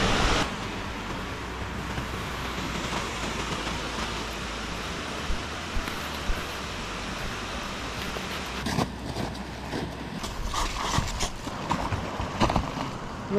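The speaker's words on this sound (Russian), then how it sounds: "Водопад Макаровский." Steady broadband rush of the Makarovsky waterfall pours on continuously, loud and close, with a few louder bursts and splashes toward the end.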